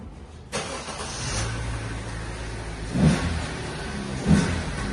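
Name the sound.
car engine revving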